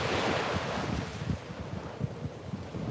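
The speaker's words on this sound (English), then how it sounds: "I think I'm distracted by the sound of these waves." Ocean waves washing ashore with a steady rushing surf and soft rolling thumps, mixed with wind buffeting the microphone.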